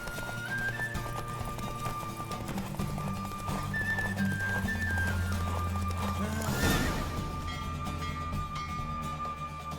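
Rhythmic hoofbeats of a galloping horse in The Witcher 3: Wild Hunt pound steadily over music, with a sharp crash-like burst midway before the galloping carries on.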